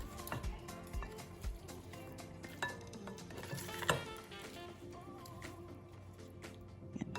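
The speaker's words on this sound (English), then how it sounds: "now we have all the ingredients in there, and we're gonna mix it up" Chicken fajita ingredients and seasoning being stirred together in a pan, with soft repeated scrapes and clinks of a utensil against the metal and faint sizzling underneath, steady at moderate volume with no talking.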